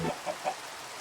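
Minecraft chicken from a hardcore survival game, a few short clucks in quick succession, fairly clear and close, with no one talking.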